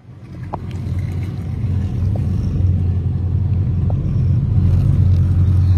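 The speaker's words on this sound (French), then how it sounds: "une pompe qui va alimenter directement le produit qu'il y a dans le bac, dans le pulvé" A pump feeding and mixing product into a sprayer tank, a loud steady low motor drone and rumble that builds slightly at the start and holds constant, with no talking.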